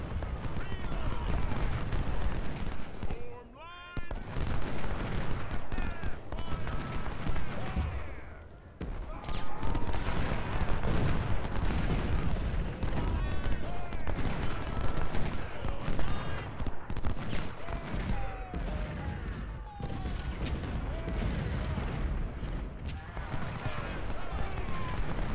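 Dense, continuous musket and artillery fire from Ultimate General: Civil War at the Gaines' Mill battle, a crackling battle din under steady talk.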